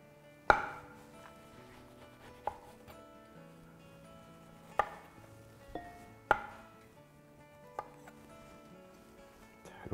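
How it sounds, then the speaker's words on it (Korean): A knife slicing through an orange on a cutting board gives several sharp knocks spaced a couple of seconds apart, over soft background music. "오렌지를 이렇게 앞뒤로 이렇게 썰어주고"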